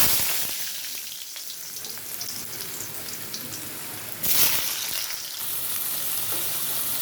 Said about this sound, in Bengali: কড়াইতে সর্ষের তেলটা গরম হয়ে গেছে। তো এখানে আমি আলু ভাজতে দিই।